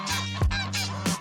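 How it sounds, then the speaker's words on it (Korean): Several hungry geese honk loudly while feeding on tofu, three or four short, harsh calls close by with a brief pause between them, no talk. "거위들은 정확히 3일 만에 두부의 참맛을 알아버렸다"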